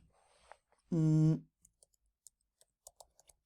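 Sparse, light clicks of code being typed on a computer keyboard, scattered irregularly after a brief voiced sound near the start, close and fairly quiet.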